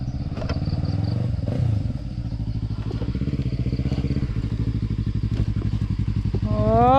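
A motorcycle pulls in at a garden farm, its engine chugging steadily and close, with some clatter and a rising rev at the end, heard alone without speech.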